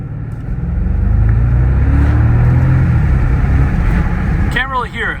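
A 2025 Bentley Flying Spur Speed engine rumbles with heavy low-end thump, building steadily as it accelerates, loud and close, with a brief chirping sound near the end.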